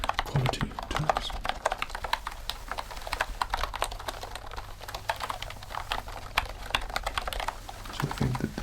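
A soft-sounding wireless keyboard is typed on in quick, close, muffled key clicks that run continuously, with no voice over them.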